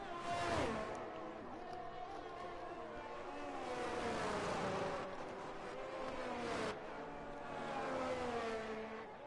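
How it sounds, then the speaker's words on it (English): Race car engines from a sim racing game whine steadily, with pitch rising and falling through shifts, as two Mercedes leave the pit lane at an Australian circuit. The roar stays continuous and fairly loud. "The two Mercedes have just come out of the pit lane."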